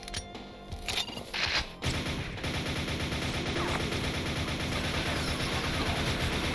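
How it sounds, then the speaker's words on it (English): A nail gun fires in the Doom Reelism 2 mod, a rapid rattling stream of shots after a few short opening bursts, loud, close and continuous. "Nail gun."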